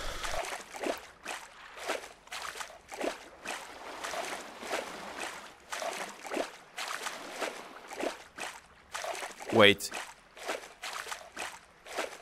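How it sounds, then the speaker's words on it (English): Footsteps splashing across water in the Bodies of Water 2 VR video game, a regular series of soft sloshing steps repeating about once a second, with one brief word spoken partway through. "That looks like I'm walking on top of the water."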